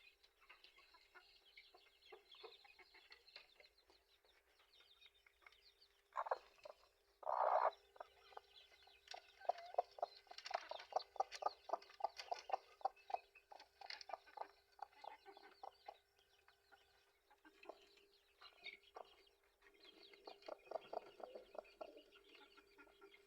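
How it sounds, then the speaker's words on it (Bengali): A rooster clucks and calls in short bursts at close range among village chickens, with a busy backdrop of other farmyard birds chattering throughout. "দেখুন আমার মোরগটা"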